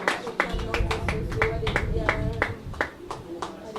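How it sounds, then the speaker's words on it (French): Rhythmic clapping from a church congregation during worship, regular claps repeating steadily over a few seconds, mixed with singing or voices underneath. "un grand applaudissement à notre Seigneur"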